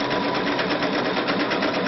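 A sewing machine stitches a zigzag pattern with twin needles while feeding the fabric by itself, a fast steady mechanical chatter of needle strokes, close and continuous with no talking.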